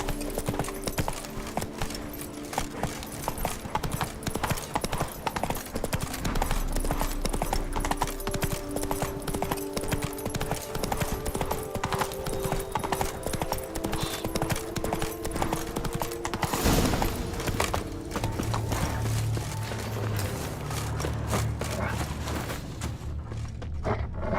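Roach, a horse in the video game The Witcher 3: Blood and Wine DLC, galloping with steady rapid hoofbeats throughout, loud and close, with music or ambience underneath and a shift in the background near the end.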